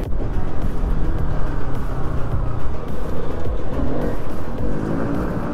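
A motorcycle fitted with a Daytona aftermarket exhaust roars loud and close, a dense continuous engine drone with fluttering exhaust pulses throughout, no voices over it.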